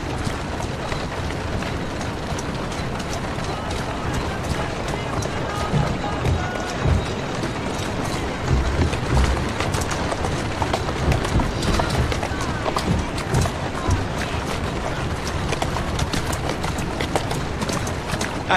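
Steady drumming of horse hooves at a fast gallop in Assassin's Creed Syndicate, dense and continuous, with rattling gear and a busy mix of game sounds underneath.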